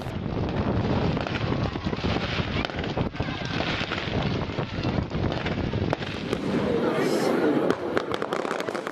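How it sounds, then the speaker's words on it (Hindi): Diwali fireworks and firecrackers go off in Ireland as a continuous crackling, popping barrage, loud and dense, with wind rumbling over the microphone and people talking through it. "लोग आतिशबाजी और पटाखे जलाकर दीपों के इस त्योहार को एंजॉय करते हैं"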